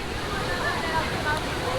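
A Bear-built shoot-the-chute water ride with several drops at Drayton Manor theme park, near Stormforce 10, gives a steady rush of splashing water with faint crowd babble beneath it.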